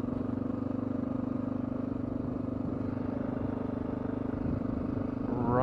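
Honda XR650L dual-sport motorcycle riding over soft gravel, its single-cylinder engine thumping steadily with a low, even rumble and faint crunching underneath, no talking.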